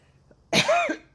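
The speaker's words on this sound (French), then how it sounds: "parce que je tousse. Vous avez dû entendre." A single harsh cough, close and loud, lasting about half a second, with near silence before and after it.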